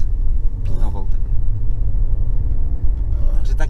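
A BMW 530i E39 engine idles steadily with a constant low rumble, running normally, while someone talks over it at moments.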